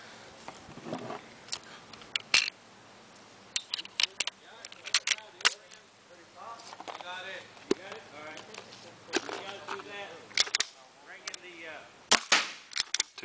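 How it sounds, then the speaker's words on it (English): Pellet shots from a 12-gram CO2 powered air gun, sharp cracks firing one after another at irregular intervals across a long string, with people talking quietly between shots. "just seeing how many shots I can get off of a 12 gram"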